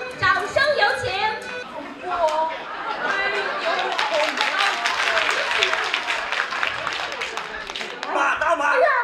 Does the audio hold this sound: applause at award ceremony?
yes